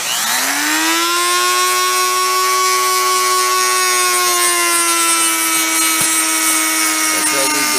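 Sears Craftsman drill press milling a slot, its motor spinning up into a loud, steady tonal whine that holds for several seconds, with a faint tick partway through.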